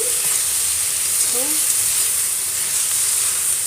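Drumstick leaves sautéing in a pan with tamarind, a steady close sizzle and hiss of frying throughout, with no voices.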